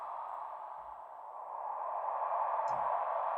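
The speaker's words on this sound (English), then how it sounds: "Wet wind." A soft, sustained wash of synthesized wind from a sample library, played with reverb: a steady, hollow whoosh that swells slightly and holds, with no voices.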